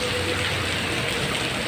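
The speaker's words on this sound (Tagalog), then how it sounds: "Abutan tayo ng ulan." Steady rain pours down outdoors near Gateway Cubao, a dense, even hiss of drops on surfaces continuing without break throughout.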